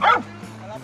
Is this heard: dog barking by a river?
yes